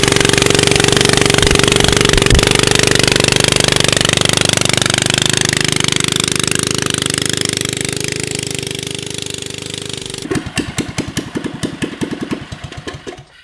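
Go kart fitted with a swapped Subaru engine, loud and close: a long steady rough running drone that fades slightly, then sputters into rapid irregular firing pulses near the end as it is push started.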